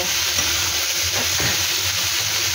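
Oil sizzles steadily in a pan while ingredients are stirred before fried fish goes in, a constant close hiss with a few soft scraping strokes of the spoon.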